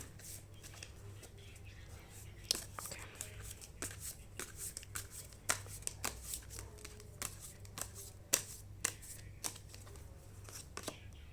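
Tarot cards being shuffled by hand, a faint run of quick riffling snaps and soft card slaps repeating irregularly throughout.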